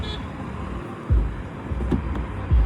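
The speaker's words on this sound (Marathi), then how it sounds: "सचिन दादा की न्यू कार" A new car, heard as a steady low engine and road rumble with a few soft thumps, close by, with no talk.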